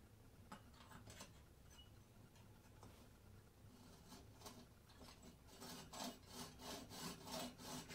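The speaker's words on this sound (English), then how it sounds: "I'm just going to use a handheld saw, which has like about a 1/32 of an inch blade on it" Handheld fine-blade saw cutting copper pipe held in a miter box, a steady quiet rasping of back-and-forth strokes that grows into a more distinct, regular rhythm toward the end.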